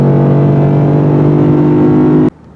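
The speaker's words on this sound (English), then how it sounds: "Listening to that louder exhaust." A 2019 Lexus V8 sports car's loud, steady exhaust drone with a deep rumble, holding constant before cutting off abruptly near the end, leaving quiet background.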